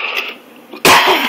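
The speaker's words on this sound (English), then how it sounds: "all of a sudden I got a cough now" A single person coughs once, sharp and close, after a quieter stretch of faint breathy noise.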